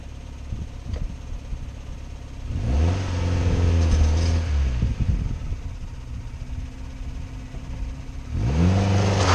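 Classic car engine revving hard in repeated bursts while a car with a seized drum-brake wheel strains to climb metal ramps, loud and close with pauses between pushes.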